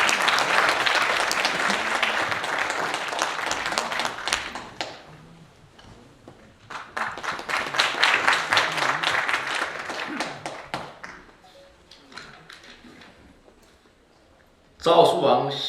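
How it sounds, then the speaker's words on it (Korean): An audience at a ceremony marking the 106th anniversary of Korea's Declaration of Independence applauds an ambassador from Taiwan's representative office. Two loud waves of clapping each fade out, followed by quiet and a sudden burst of sound at the end. "대만 대표부의 양광중 대사님께서 항상 참석해 주시는데 큰 박수로 모셔서 축사를 듣도록 하겠습니다."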